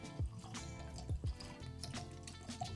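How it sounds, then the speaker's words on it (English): Single-cask rum is poured into tasting glasses, with soft drips and gurgling trickles of liquid close by at a low level, free of talk. "let's start pouring"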